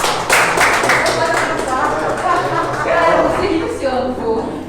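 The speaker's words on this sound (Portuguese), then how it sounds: "Uma salva de palmas e abraça aí, vó." Audience applause at a leadership talk, dense clapping sustained through the whole stretch at fairly loud level, with voices mixed in underneath.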